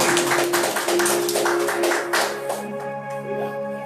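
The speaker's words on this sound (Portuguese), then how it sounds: "Aplauda Jesus, irmão, porque ele merece," Church congregation clapping in praise, a dense run of sharp hand claps over sustained musical tones that thins out and fades after a couple of seconds, leaving the music ringing alone.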